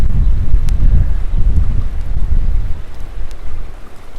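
Evening wind blows over the Sea of Galilee, a continuous close, low buffeting roar on the microphone with gusty swells and no voices.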